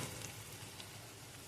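Prawns and spices fry in a pan for a traditional mustard-poppy seed prawn curry, giving a faint, steady, even sizzle throughout.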